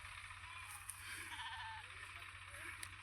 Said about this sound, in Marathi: मोकार मेंढ्या आल्यात.